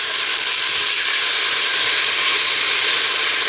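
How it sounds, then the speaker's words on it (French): Meat browning in a hot pan for berkoukes sizzles steadily, a loud, dense, continuous frying hiss close to the pan, with no talk. "je laisse ma viande colorer"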